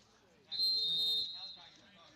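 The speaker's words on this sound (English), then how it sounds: "as we have a whistle before the kickoff" A single referee whistle blast before kickoff at a 7th grade A football game, a sharp shrill tone of about a second with a quieter trailing note, standing out over faint crowd background.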